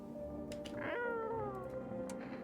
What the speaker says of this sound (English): I got a cat this time.